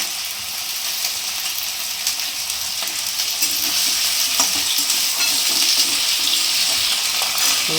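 Cauliflower fries in a hot pan for Bengali vegetable chop, giving a steady, close, moderately loud sizzle with occasional stirring scrapes throughout.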